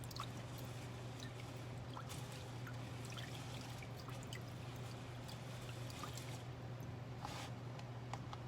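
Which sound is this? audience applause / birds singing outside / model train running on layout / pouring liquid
pouring liquid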